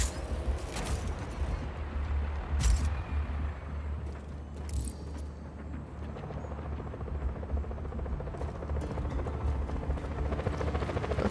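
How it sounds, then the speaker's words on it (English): A helicopter in the video game Just Cause 4 gives a loud, continuous rotor thrum and engine drone, steady throughout with a few brief bursts of game effects over it and no talking. "Where's the chopper?"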